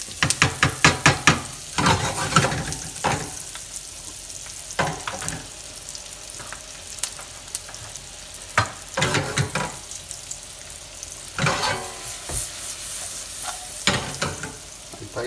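Shrimp ranchero stews and sizzles in a pan as chili is added, a steady frying hiss broken by intermittent clatters of stirring.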